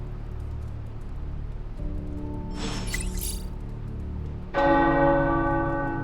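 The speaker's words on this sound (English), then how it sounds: "The tower bells are ringing." Tower bells ringing in the video game Marvel's Midnight Suns, a single deep bell strike that swells in partway and rings out with long, bright overtones over a low ambient drone, no voices.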